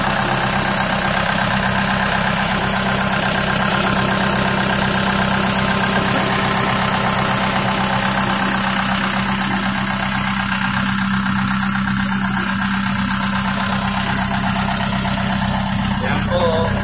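A belt loader truck engine idles loudly and close, a steady rumbling drone with a rhythmic low throb that continues without pause.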